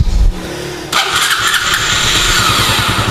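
A motorcycle that ran out of fuel cranks and fires up, then settles into a steady, slightly ragged idle, loud and close, with no talk.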